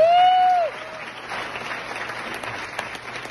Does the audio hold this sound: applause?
yes